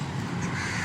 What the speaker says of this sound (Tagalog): And nakikita nyo naman, maraming uwak dito.